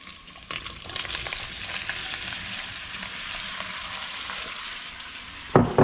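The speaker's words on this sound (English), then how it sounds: "So now that our bacon has produced quite sufficient amount of oil, we are gonna add our vegetables" Chili vegetables frying in rendered bacon fat, a loud close sizzle with stirring scrapes throughout and a couple of sharp knocks at the end.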